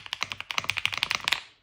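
Brisk typing on an EpoMaker Hack 59 mechanical keyboard, a close burst of roughly twenty hollow, clacky keystrokes in quick succession, heard alone without speech.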